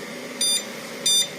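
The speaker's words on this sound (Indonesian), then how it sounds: "alarm low voltage-nya bunyi" A Xian Ke Zhi pure sine wave inverter running on a worn, used car battery sounds its low-voltage alarm: two short, loud, even electronic beeps about half a second apart over a faint background hum.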